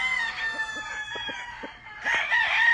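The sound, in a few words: rooster crowing on a Louisiana farm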